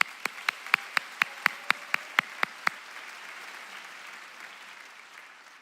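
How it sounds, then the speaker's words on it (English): Roughly eleven sharp, evenly spaced hand claps ring out at a high school graduation ceremony, clear and fairly close, then stop and leave a fading room hush. "let's give a round of applause to that first"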